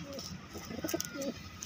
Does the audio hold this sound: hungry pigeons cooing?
yes